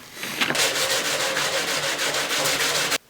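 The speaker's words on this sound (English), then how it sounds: "I went out and grabbed a bunch of sandpaper. I'm gonna sand down the edges." Steady hand sanding of plexiglass edges with sandpaper, a continuous close abrasive rasping with rhythmic back-and-forth strokes that stops abruptly at the end.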